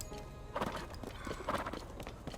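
Hooves of the oversized Horse Link in Zelda: Tears of the Kingdom, a few spaced clip-clop beats in small clusters, fairly faint and close.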